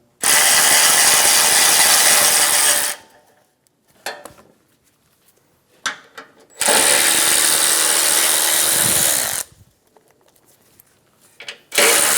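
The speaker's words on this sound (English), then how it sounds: "Using a 12mm socket, remove all of the bolts for the front impact bar." A 12mm socket ratchet spins off the bolts of a Honda Accord front bumper impact bar, with two long bursts of rapid, loud clicking and a few short ratchet clicks between them.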